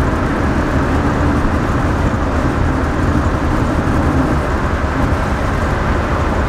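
Classic car engine idling after a distributor adjustment, a steady, dense rumbling drone that holds unchanged throughout, close and loud.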